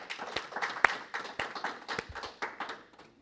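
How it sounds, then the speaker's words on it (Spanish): A church congregation claps for the Lord during a Spanish-language sermon, a sparse scattering of distinct hand claps at varying pace rather than a dense ovation. "denle un aplauso al Señor, por favor"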